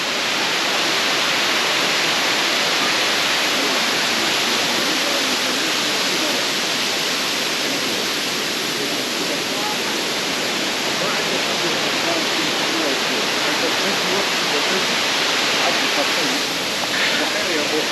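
Laurel Falls in the Great Smoky Mountains pours in a loud, steady, close rush of falling water that stays constant throughout.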